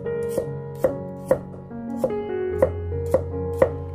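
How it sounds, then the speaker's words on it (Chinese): A knife slices garlic cloves into thin slices on a cutting board while preparing tomato and egg stir-fry, giving seven or eight crisp, evenly spaced chops over steady background music. "把它切成薄片"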